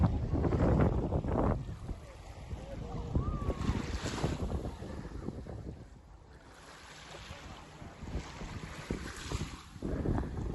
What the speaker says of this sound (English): You can barely even hear the ocean here